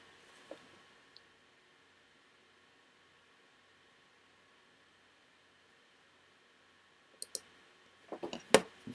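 A computer mouse clicks in a quiet room, a couple of faint isolated clicks early on, then a louder quick cluster of clicks near the end.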